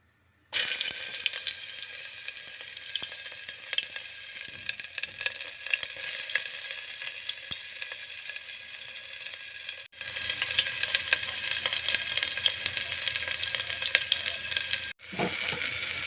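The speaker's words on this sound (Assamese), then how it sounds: "তেলখিনি এতিয়া গৰম হৈ গ'ল, পিঁয়াজ দি দিছোঁ।" A loud, continuous crackling sizzle of onions frying in hot oil, steady throughout with a brief break partway and near the end.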